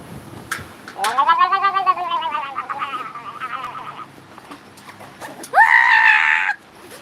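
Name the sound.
voice imitating a goat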